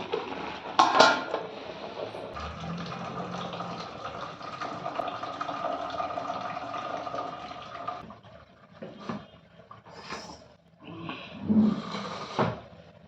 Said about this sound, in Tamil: இப்போ வந்து நம்ம சாப்பாடை வடிச்சிடலாம்